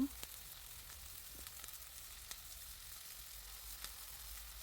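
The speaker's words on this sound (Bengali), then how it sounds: "পেঁয়াজ মরিচ এগুলো সবগুলোকে একটু ভেজে নিব" Onions and chillies frying in a pan for a spicy coriander-leaf mash, a soft, steady sizzle with faint scattered crackles and light stirring clicks throughout, fairly quiet and with no talking.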